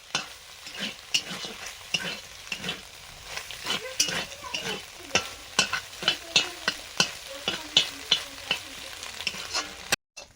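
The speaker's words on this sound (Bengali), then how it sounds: "ডিমটাও ভেজে নিয়েছি" An egg fries in a pan for mixed chowmein while a utensil stirs and scrapes it in a steady, rhythmic clatter over a continuous sizzle, close and fairly loud for about ten seconds.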